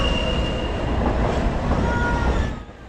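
A passenger train rolls toward Poroy station on the route to Machu Picchu, a loud steady rumble with faint wheel squeal that eases off in the final moments.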